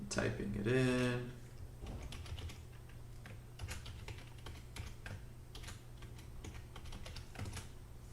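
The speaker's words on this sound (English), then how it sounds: "Typing it in." Fingers type on a computer keyboard in a series of light, fast clicks and taps, close and fairly quiet, following a brief spoken word at the start.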